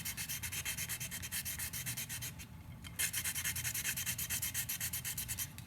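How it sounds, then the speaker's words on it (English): Hand sanding a cured glitter epoxy surface with sandpaper, a steady rapid back-and-forth scratchy rubbing close up, pausing briefly midway before resuming the same rhythm. "I'm just going to sand around."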